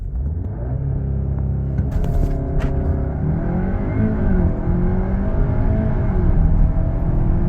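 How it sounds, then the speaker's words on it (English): A 2023 VW Arteon 2.0T R-Line launches hard under launch control, its turbo four-cylinder engine rumbling loudly and building revs in rising sweeps before shifting, close and continuous with no talking. "press really hard on the throttle at the same time"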